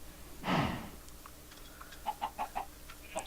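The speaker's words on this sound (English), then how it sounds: "Chickens." Chickens in the TerrafirmaCraft mod for Minecraft cluck in a few short, soft, quick notes after a breathy whoosh, close by over quiet game background.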